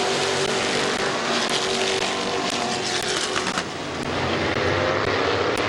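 Race cars roar around the oval at Midvale Speedway in a dense, continuous engine din, several cars passing close with loud, sustained howls and a brief dip before the pack swells again.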